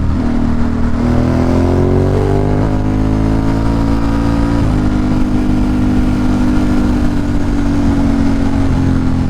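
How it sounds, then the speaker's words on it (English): A Ducati Monster 937 motorcycle revs hard and close, engine pitch climbing in steps before it bounces off the rev limiter and holds a loud, steady drone, with no talking. "I hit the rev limiter a second."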